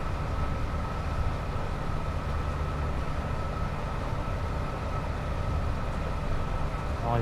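A Class 87 locomotive rolls along the West Coast Main Line between Preston and Carlisle in Train Sim World 5, giving a continuous, even rumble and drone with no break.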